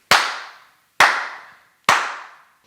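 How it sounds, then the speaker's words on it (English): Three sharp single hand claps, evenly spaced about a second apart, each ringing briefly in a small home studio room with a quick decaying reflection between the walls. "I'm gonna do a quick clap test"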